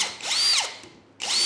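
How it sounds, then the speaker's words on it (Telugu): A cordless brushless (BLDC) drill bores a hole through thin metal sheet, its high whine rising and falling in two bursts separated by a brief pause, close and loud with no talking. "మెటల్ షీట్ కూడా హోల్ వేసి పెడతాను"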